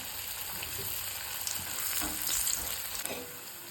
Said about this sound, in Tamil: இது நல்லா காஞ்சிருச்சு. பொரிச்சுக்கிறேன்.